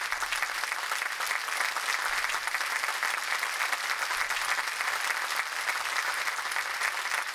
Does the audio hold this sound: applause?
yes